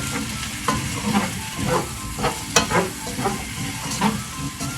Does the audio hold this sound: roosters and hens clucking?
no